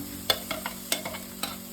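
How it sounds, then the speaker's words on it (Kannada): Ground spinach paste going into fried masala for butter palak paneer gravy, with a few sharp stirring clatters against a steady low sizzle close by. "ಈಗ ಸೊಪ್ಪು ಗ್ರೈಂಡ್ ಮಾಡಿ ಇಟ್ಕೊಂಡಿರೋದನ್ನು ನಾನು ಹಾಕ್ತಾಯಿದ್ದೀನಿ"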